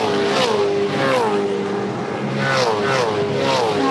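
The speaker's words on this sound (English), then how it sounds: "This is purely for everyone who loves the sound of a race car." Supercars race car engine at the Ipswich 400 in 2014, a loud, sustained high-revving roar that rises and falls through repeated gear changes, heard continuously with no talk over it.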